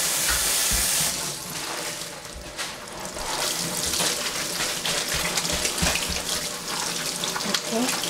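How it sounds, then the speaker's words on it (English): Hands are washed under a running tap while curing olives, a steady close splash of flowing water with shifting gushes and brief pauses, no talking. "So I will wash my hand"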